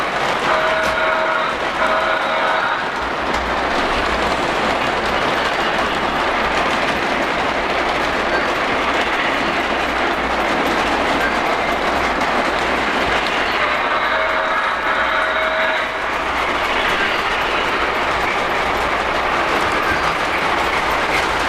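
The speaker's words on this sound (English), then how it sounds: "we've got the ELF work train partway down" A Polar Express model elf work train runs along a layout track with a steady, continuous rolling rumble and rhythmic clicking at close range, loud and unbroken, with no voices.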